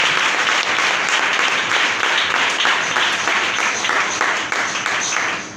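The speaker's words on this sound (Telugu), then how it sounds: "గట్టిగా చప్పట్లు కొడుతూ" A church congregation claps loudly and continuously, a dense, steady wash of many hands applauding together throughout, close and full, with no pause.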